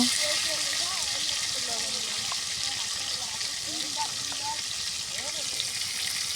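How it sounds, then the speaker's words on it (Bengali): Potatoes frying in hot oil while being stirred, a steady broadband sizzle with faint scraping, with voices faintly audible underneath. "আলুগুলো তেলের ভিতর দিয়ে আমি ভালো করে নেড়ে করে মিশিয়ে নিচ্ছি তেলের সাথে"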